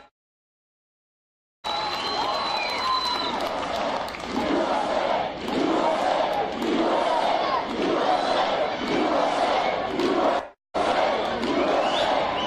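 A dense rally crowd at a Donald Trump campaign event in Colorado Springs roars and chants in loud rhythmic surges after a silent start, briefly cutting out near the end and then resuming.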